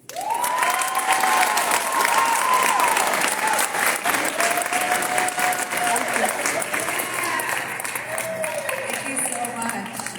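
A graduation ceremony audience breaks into loud, sustained applause with some cheering, while a voice talks over the clapping and the clapping slowly thins out.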